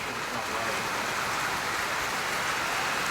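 Heavy rain falls steadily during severe summer weather in Texas, a dense, unbroken hiss close by with no pauses.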